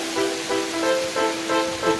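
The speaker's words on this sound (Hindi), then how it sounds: "आई गेस ये बारिशों का ही कुछ निकल के आ रहा पानी इस पार्ट में" Rainwater running down a mountainside trail near Dharamshala and McLeodganj, a close, loud rushing stream that surges and splashes in steady repeating pulses.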